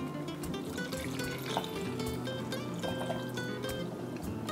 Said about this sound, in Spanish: le tenemos que echar otra poquita de agua porque está fuerte.